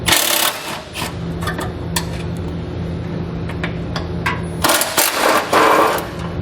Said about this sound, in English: So we'll grab a 13mm socket and pull both those bolts out.